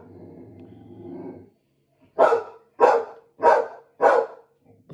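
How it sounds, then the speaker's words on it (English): A pet dog barks four times in a steady rhythm, loud and close, after a stretch of softer low sound; no talk. "my dog is really, really, really out of control"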